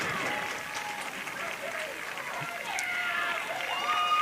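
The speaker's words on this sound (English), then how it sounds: "Got a rise from the crowd there" Spectators at a women's club rugby championship match give a rising roar and cheer, broad and steady, swelling louder toward the end with crowd chatter mixed in.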